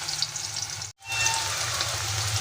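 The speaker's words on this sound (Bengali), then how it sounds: "গরম তেলের মধ্যে কেটে রাখা আলুগুলো দিয়ে দেবো।" Cut potato pieces frying in hot soybean oil, a steady loud hiss and crackle heard up close, broken by a brief dropout partway through, with no voices.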